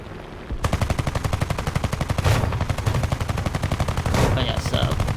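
Rapid machine-gun fire in the War Thunder game, a steady, evenly spaced stream of loud shots lasting several seconds, close and continuous, with occasional heavier blasts mixed in.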